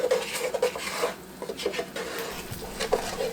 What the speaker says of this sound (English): I'm just going to keep stirring it until some of it's getting browner.